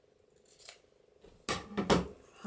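Scissors snipping through paper for a craft journaling card, a few crisp close cuts in a quiet room, with a soft faint snip early and louder rustling cuts toward the end.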